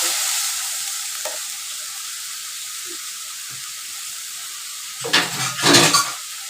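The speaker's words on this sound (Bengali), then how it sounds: "আর একটু জল দিয়ে কষাতে শুরু" Egg curry masala stir-fried in a pan after water goes in, a quiet hiss with a few faint taps, then two loud bursts of sizzling and stirring near the end, no talk.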